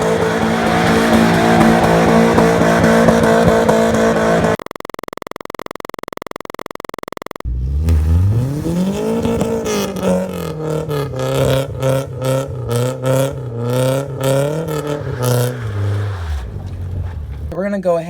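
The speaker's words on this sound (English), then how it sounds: "they can hear the car accelerating" A Nissan 240SX drift car revs and accelerates with an extremely loud, raw exhaust, the engine note climbing and holding in a rough, pulsing roar after a brief quieter pause.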